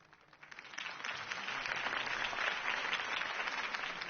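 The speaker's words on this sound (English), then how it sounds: "could have heard that applause" In a Batman video game, a crowd applauds after Harvey Dent's campaign speech, with clapping that swells in the first second and then holds as a dense, even roar with no talking.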